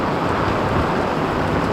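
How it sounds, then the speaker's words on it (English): Heavy rain falls on a rainy day on Hong Kong Island, a loud, dense, steady hiss and patter that fills the whole moment without change. "Look at this rain."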